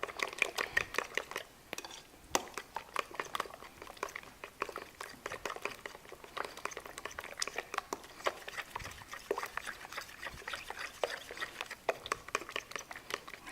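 Banana bread batter made with honey and almond butter is stirred by hand in a bowl, giving quiet, close, irregular scraping and sticky clicking strokes that continue throughout.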